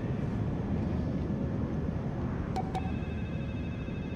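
Phone dialing in the stealth game Splinter Cell Blacklist: two short electronic tones sound close together partway through, over a steady low ambient rumble, with no talk.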